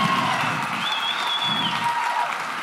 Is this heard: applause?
yes